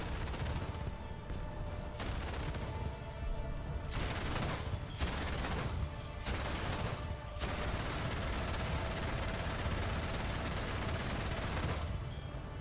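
Anti-aircraft gunfire from a ZSU-23-4M2 Shilka in a video game, loud dense fusillades of rapid automatic bursts with short pauses between them, then one long sustained roar of fire.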